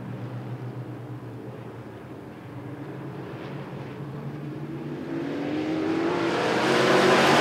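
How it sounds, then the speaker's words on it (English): Race cars accelerating together on the Rockford Speedway oval at the green flag of a bracket heat, a loud, dense engine roar that holds steady, then swells and climbs in pitch toward the end, with no talking. "green flag, and we're racing for our third heat of the A brackets here at the Bahama Brackets, Rockford Speedway"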